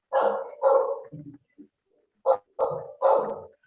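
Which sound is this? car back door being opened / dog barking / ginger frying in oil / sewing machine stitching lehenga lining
dog barking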